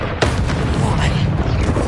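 A Confringo blasting spell explodes in Hogwarts Legacy, one sharp close boom followed by a rumbling tail under busy combat noise, with a voice speaking around it.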